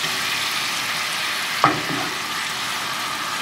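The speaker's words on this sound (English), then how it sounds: "I'm just gonna keep mixing the noodles" Noodles for a miso cacio e pepe with black pepper sizzle steadily in a pan while being stirred, with one brief scrape or clack partway through.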